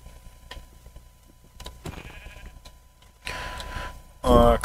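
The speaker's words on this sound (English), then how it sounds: "Is that a sheep?" A sheep in the Minecraft video game gives a short, bright bleat near the end, loud and close, following quieter game clicks and ambient sounds.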